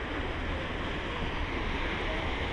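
Sea waves splashing against the rocky shore of Enoshima island, Japan, heard as a steady, loud broadband wash with wind buffeting the microphone throughout, and no distinct breaks between surges.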